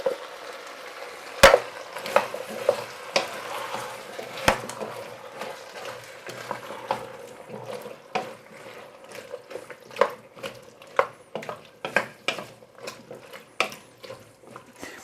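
A tin of tomatoes goes into a simmering Portuguese fish stew pot, a soft sizzle broken by irregular metallic clicks and scrapes that grow busier toward the end.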